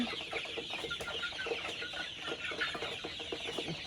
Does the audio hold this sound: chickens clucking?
yes